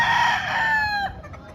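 A full-grown stag rooster at a Batangas poultry market lets out a loud, close crow with a long drawn-out tone that breaks off sharply near the end, with no talk over it.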